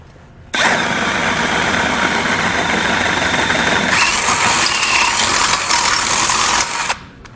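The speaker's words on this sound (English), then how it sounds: "And then just enlarge it using a 9/16 drill bit." A power drill with a 9/16 bit enlarges a hole while a base plate kit is installed on a 2021 Jeep, running steadily for several seconds with a loud, constant whine that shifts pitch partway through as it bores, then stops.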